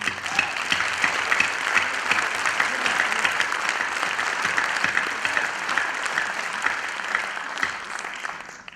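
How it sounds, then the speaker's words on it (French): A packed theatre audience at a screening event for four television films applauds loudly and steadily, a dense wash of clapping with no voices rising above it. "On applaudit très fort Monsieur Robert Bonner."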